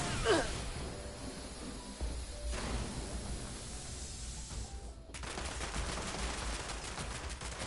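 Gunfire from the video game Fallout 76, with bursts of shots and a harsh, noisy texture that stops and restarts across the stretch, heard at moderate loudness over a constant low rumble.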